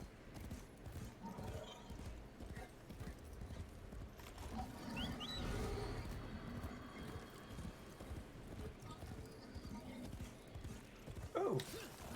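Horse hooves clip-clop in a steady rhythm with an occasional whinny in the video game Warframe, set under a dense, fairly quiet game soundscape with faint background sounds.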